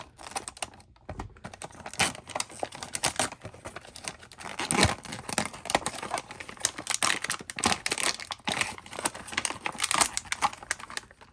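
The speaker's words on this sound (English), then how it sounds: "I got a pair of scissors. We're just gonna cut it" Scissors snip and crinkle through the plastic packaging of an UpLULA speed loader in a rapid, irregular run of close, sharp clicks and rustles, with no talk.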